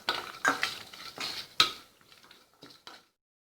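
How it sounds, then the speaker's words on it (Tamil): Cashew nuts being roasted and stirred in a pan for cashew pulao, with a few close metallic scrapes and clinks of a spoon against the pan, then quieter taps trailing off. "இது எல்லாம் நல்லா பொரிஞ்சதும் நம்ம எடுத்துருக்கிற முந்திரி பருப்பை சேர்த்து வறுத்துக்கலாம்."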